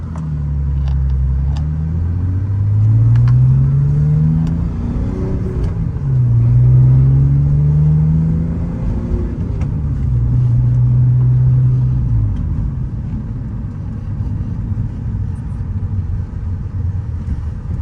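Lexus GS300 with a 2JZ engine and a BMW ZF six-speed manual swap, driven aggressively: loud engine rising in pitch through three pulls with gear changes between, then settling into a steady cruising rumble with road noise.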